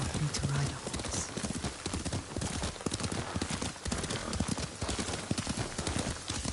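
A horse's hooves clip-clop at a steady riding gait in the PS5 game Ghost of Tsushima, a rapid rhythmic patter heard close while characters talk over it.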